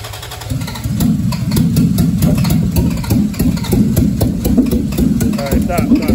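A car engine rumbles close and loud as gas is fed to it, a low, uneven idle throbbing and surging steadily throughout.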